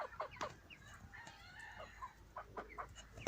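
Rooster crowing amid clucking chickens and chicks, a few bright calls near and moderately loud over a busy coop with no talk.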